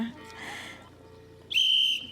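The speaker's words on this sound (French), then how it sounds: "dès qu'ils sont prêts, on va pouvoir siffler le top départ" A single long, loud whistle blast signals the start of a one-minute children's water-spraying challenge at an outdoor public event in La Petite Pierre, following a softer stretch of background murmur.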